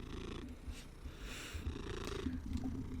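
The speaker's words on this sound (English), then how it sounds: "You're gonna purr down the microphone at everyone." A cat purring right into a microphone, a continuous close rumbling purr with steady breathy cycles and no other sound.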